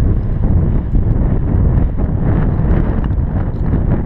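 Polo pony at a long gallop during a polo match, heard as continuous loud rhythmic hoofbeats on turf mixed with strong wind noise over the microphone.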